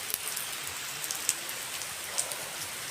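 Heavy rain pours down steadily during a monsoon depression, a dense hiss of falling water with scattered louder drops and no voices.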